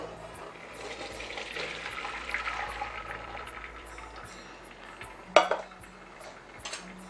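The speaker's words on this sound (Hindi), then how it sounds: "पास्ता हो गया है, अब मैं इसमें छन्नी में इसको छान लेती हूँ।" Water pours and splashes steadily into a metal strainer as boiled penne pasta is drained, with clinks of a pot against it and a sharper clatter near the end.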